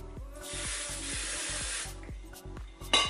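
A steady hairspray aerosol hiss sprays for over a second, close up, with light rhythmic handling taps and a brief clatter at the end.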